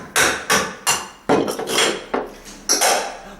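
Repeated hammer blows piercing a hole through the center of an object, about eight sharp metallic strikes in an uneven rhythm, close and loud, with no talking.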